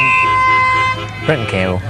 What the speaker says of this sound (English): There goes the final siren